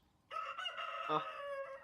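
A rooster crows once, a clear, fairly faint call lasting over a second, with a brief cluck within it and no talk.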